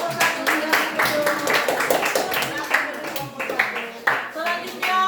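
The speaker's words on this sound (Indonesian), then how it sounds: "Tepuk tangan buat kelompok 1 yang betul" Classroom applause for a student group: a round of hand claps scattered through the whole stretch, mixed with children's voices chattering over it.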